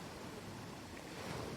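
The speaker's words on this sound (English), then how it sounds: "Gentle waves lap at the shores as the soft evening breeze blows across the empty harbor" Gentle waves lapping at the shore of an empty harbor at evening in the game Beyond the Harbor, a steady soft wash of water with breezy noise, continuous and even.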